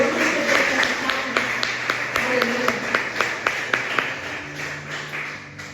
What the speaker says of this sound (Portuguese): Aplauda o nome do Senhor, igreja.